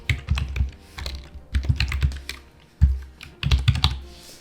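Computer keyboard typing a tag name in quick clustered keystroke bursts, close and crisp, with short gaps between the runs of clicks and no talking.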